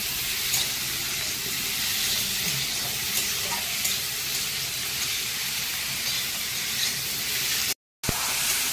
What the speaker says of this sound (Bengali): আলু বেগুনটা দিয়ে নিই, দিয়ে এটা ভেজে নিই।